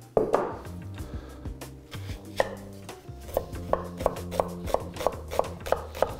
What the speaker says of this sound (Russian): сейчас мелко нарежем лук